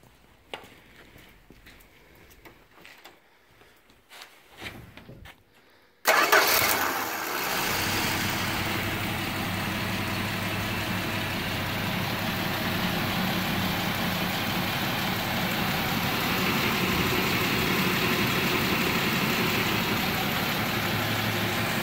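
A 1963 Plymouth Valiant with a 225 slant six, freshly rebuilt carburetor and ignition, cranks briefly after quiet rustling, then catches and settles into a steady, even idle nearby.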